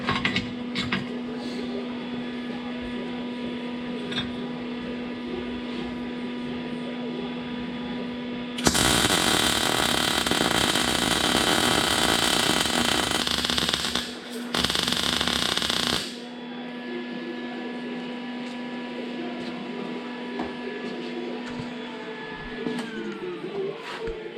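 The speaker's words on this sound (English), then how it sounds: "Weld those in." An arc welder burns steel plates onto trailer ramps in a loud crackling burst lasting about seven seconds, pausing briefly between two runs over a constant electrical hum.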